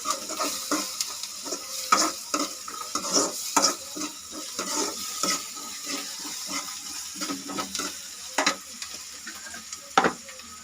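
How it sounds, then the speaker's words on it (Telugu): Curry leaves and onions frying in a pan for a boiled egg fry, with steady sizzling and repeated scraping stirs, spoon knocks and clatter scattered throughout at close range. "కరివేపాకు వేసుకొని మళ్ళీ ఒకసారి కలిపెట్టుకొని మళ్ళీ ఒక 2-3 మినిట్స్ మళ్ళీ ఫ్రై చేసుకోవాలి"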